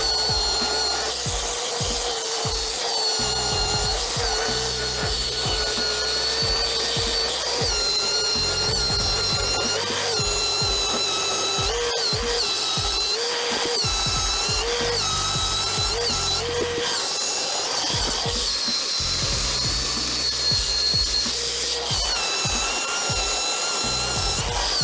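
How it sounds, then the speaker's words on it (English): An orbital sander with 220-grit paper works over a wooden stool, giving a loud, continuous whirring and buzzing drone with rubbing variations and occasional brief dips, close up and without talk. "I have an orbital sander, and I'll probably do 220 with that."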